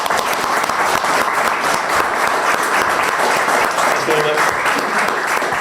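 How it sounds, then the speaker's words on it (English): A live gaming show audience breaks into sustained, loud applause, dense clapping that stays even for the whole stretch, with crowd voices mixed in. "Right, round of applause for"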